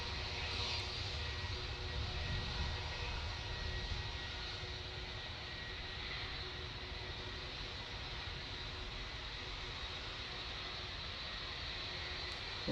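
A Lufthansa Airbus A321 departs Manchester Airport for Frankfurt, heard as a steady, distant, fairly quiet jet roar that holds evenly throughout with no voices.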